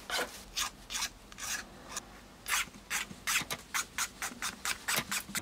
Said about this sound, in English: file all of the edges down